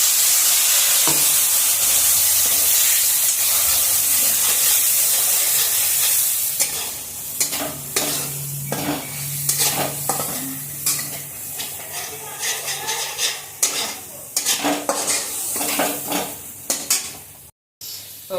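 Masala spices hit smoking-hot oil in a kadhai with a splash of water while making brinjal bhaji, a loud sizzle settling into steady frying with repeated close scraping and stirring clatter of the pan.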